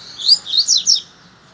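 A blue-billed coleirinho seedeater sings a quick burst of four bright, high chirps in a row, close and clear, followed by quiet.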